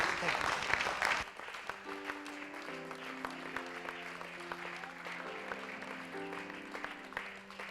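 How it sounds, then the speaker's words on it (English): A church congregation at a mid-week service claps hands in praise, a burst of applause that fades after about a second, then organ chords and scattered voices continue beneath. "give the Lord a hand clap of praise tonight"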